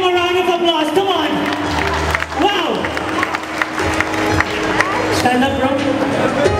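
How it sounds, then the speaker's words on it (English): Audience applause with clapping and cheering at a live magic show, a crowd clapping steadily for about six seconds, loud and close, with voices and hubbub mixed through it. "Let's give him a round of applause"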